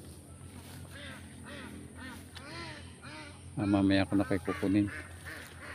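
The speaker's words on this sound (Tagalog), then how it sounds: "Ang iingay nitong mga itik na ito." Ducks quack loudly and insistently in a rural Philippine rice-farming yard, a burst of harsh calls in the second half following softer quacks, while a person talks nearby.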